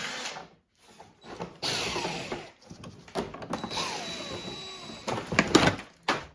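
Hand tools removing 10mm bolts and screws from the engine cover of a 1990-1997 Lexus LS400, close-up ratcheting, scraping and metallic handling noises in irregular bursts with brief pauses between.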